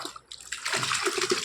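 Leftover water from idli and dosa batter is poured and stirred, giving a close, loud splashing and sloshing that builds after a brief quiet start; no one speaks.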